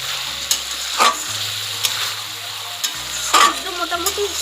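Rohu fish curry with potato stir-fried in a pan, a close, loud sizzle with repeated spatula scrapes and clinks against the pan, no voices.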